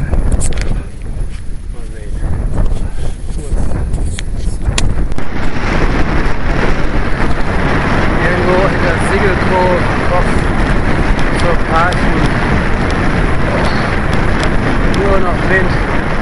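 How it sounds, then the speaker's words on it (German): Strong wind roaring steadily into the microphone of a road bike rider on a long ride from Berlin to Boizenburg, loud and continuous buffeting throughout with no pauses. "Wind."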